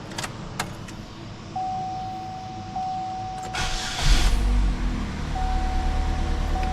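A 2009 Chevrolet Cobalt with about 197,000 miles and a freshly repaired oil pan: a steady electrical whine, then the engine cranks and catches with a loud thump and settles into a steady idle, heard close up.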